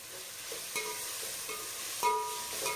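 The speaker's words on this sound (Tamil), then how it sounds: "இது சேர்த்து நல்லா வதக்கினதுக்கப்புறமா ஒரு கைப்பிடி அளவு புதினா கொத்தமல்லி சேர்த்து நல்லா வதக்கிக்கோங்க" Ginger garlic paste with a handful of mint and coriander is sautéed for paneer biryani, giving faint, steady stirring scrapes over a soft sizzle with a few sharper clinks, and no talking.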